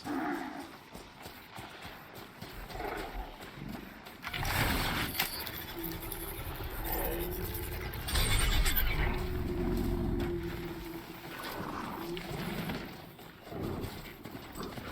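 Horses in Horizon Zero Dawn, with clip-clopping hooves and a whinny over an outdoor game backdrop, moderately close and fairly loud through the middle.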